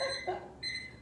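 An electronic alarm sounds during an indoor art workshop, giving two short, loud tonal beeps in quick succession with a quiet room between them.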